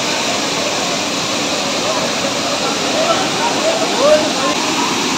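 A waterfall at Gundicha Ghagi dam pours in a steady, broadband rush that fills the whole clip at close range, with no breaks or change in level.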